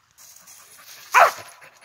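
A mountain cur hunting dog gives a single loud bark at a treed raccoon in rough woods, a sharp burst standing out over quiet background.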